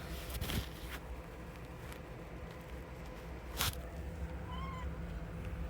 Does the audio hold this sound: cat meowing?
yes